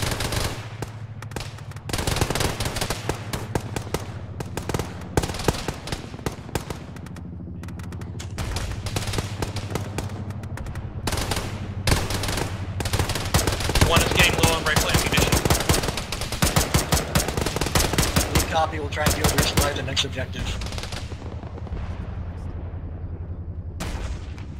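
Sustained machine gun and rifle fire in the Arma military video game, with dense rapid bursts and shots at varying distances continuing throughout, as voices call out over the gunfire.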